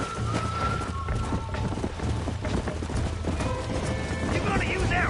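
Horse hooves clip-clop at a running pace in the Red Dead video game, steady and fairly close, mixed into a dense game soundscape with voices.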